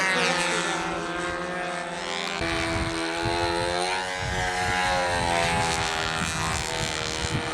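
Radio-controlled model warbirds, a Japanese Zero and a P-51, fly with a loud, steady propeller engine buzz that rises and falls in pitch as they pass at a model aircraft competition, with no talk.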